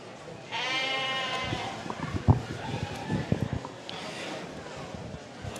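Sheep bleat with a long wavering cry, then shorter calls, at a mock livestock sale of club lambs in a barn, among crowd noise and bumps; speech is heard faintly.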